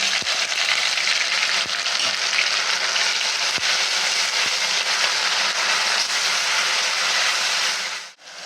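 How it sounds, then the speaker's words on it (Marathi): Ground spice paste for pav bhaji sizzling loudly in hot oil, a dense continuous close-up hiss with a few sharp spoon taps, no voices. "हे तीन चमचे तेल टाकते हे पहा तेल गरम झालेलं आहे आता यात आपण ही वाटून ठेवलेली पेस्ट घालत आहे"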